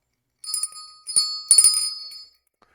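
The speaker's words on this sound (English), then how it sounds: "and I will ring the bell." A bell rung during a LEGO building workshop gives a few bright metallic strikes in quick succession, each ringing briefly before fading, with a short pause between groups and no talking.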